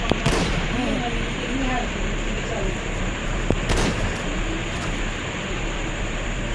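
A few sharp gunshots crack out over a noisy, busy background as zombies are shot in the video game Deadly Nightmare, with a voice talking in between.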